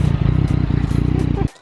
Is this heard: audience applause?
no